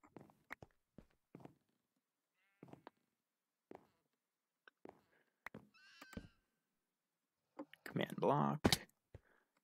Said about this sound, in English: Got ourselves a horse here